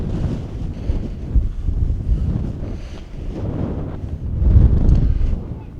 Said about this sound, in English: When that gust hits though, it fucking sucks.